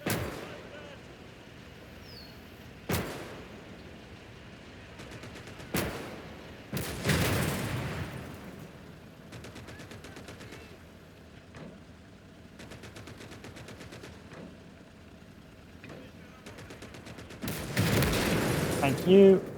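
Gunfire in Call to Arms: Gates of Hell, with scattered single shots and short rattling bursts at mid distance, separated by quieter battlefield ambience and building to a denser volley near the end.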